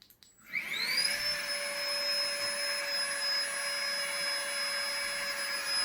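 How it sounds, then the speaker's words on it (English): A Flextail electric air pump inflating a sleeping pad spins up from silence into a steady, loud, high-pitched whine with a faint rising pitch, holding constant and close by with no talking. "use my Flextail pump quick"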